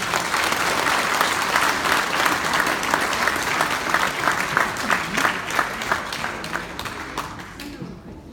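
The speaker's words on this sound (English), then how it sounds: "another round of applause" Sustained audience applause at a volunteer awards ceremony for the sports and recreation category, steady dense clapping from a sizable crowd that tapers off at the end.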